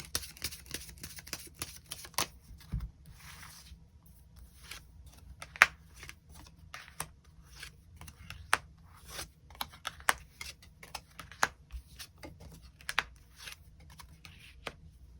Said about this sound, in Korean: 그럼 9번 분들 추가 카드로 일별로 월요일부터 일요일까지 어떤 하루하루를 보내게 될지 추가 카드 뽑아보도록 하겠습니다.